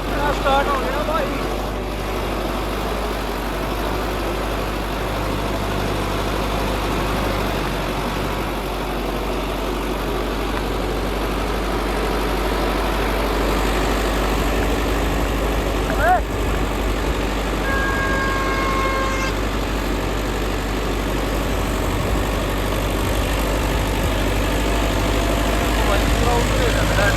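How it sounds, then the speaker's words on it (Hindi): A Sonalika 750 tractor hauling a heavy soil load grinds up a hill in low gear, its deep engine drone steady and continuous throughout, with a few faint distant chirps and brief voices in the background. "लगभग चढ़ाई है और ट्रैक्टर पार कर दी है।"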